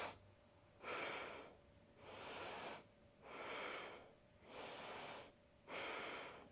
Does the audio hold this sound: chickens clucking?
no